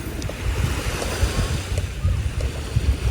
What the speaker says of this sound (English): So calming, just sat here listening to the sea.